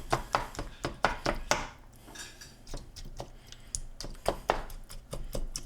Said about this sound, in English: Then we gotta beat it up in the pan